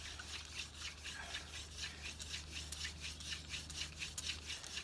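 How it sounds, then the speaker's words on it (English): Wooden spindle spun between the palms in a hand-drill friction fire, producing fast rhythmic rubbing and grinding strokes, close and fairly quiet, repeating steadily back and forth. "I'm going to go ahead with the second half of the fire, the hand drill friction fire, and start putting in more pressure and going faster and harder."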